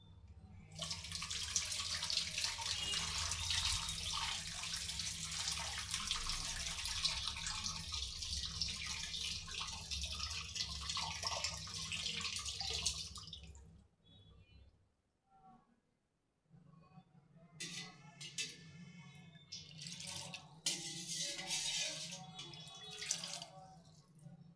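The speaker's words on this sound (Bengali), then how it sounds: "আমি চামচটা একটু ধুয়ে নিই।" Tap water runs loudly and steadily into a kitchen sink as a spoon is rinsed, then stops briefly and resumes in shorter splashing bursts.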